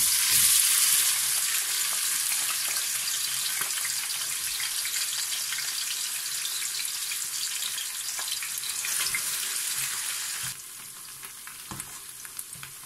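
Chopped onion with peppers frying in a pan for Tunisian couscous, a steady close sizzle with occasional stirring scrapes, softening slightly toward the end, with no talking.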